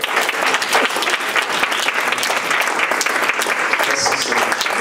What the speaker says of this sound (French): Applaudissons le Seigneur.